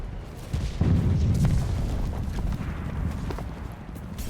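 Booms and blasts roll through an Enlisted game battle on bridges, dense and continuous, with a heavy rumble building early and scattered sharp hits over constant low noise.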